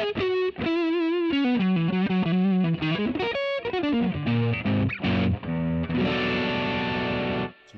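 A Fender Custom Shop Masterbuilt 1959 Stratocaster relic electric guitar plays a run of sustained, bending melodic notes with a heavily effected, distorted tone, loud and alone, ending on a ringing chord.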